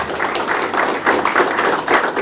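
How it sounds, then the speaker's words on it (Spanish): Audience applause at a book presentation in a school hall, a steady wash of many hands clapping at moderate volume, swelling slightly in pulses without any speech. "Ponen los aplausos."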